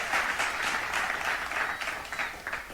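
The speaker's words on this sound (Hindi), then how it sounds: "clap for them" An audience claps steadily for children after a karate class demonstration of punches and kicks, a continuous patter of applause at moderate distance with no talking over it.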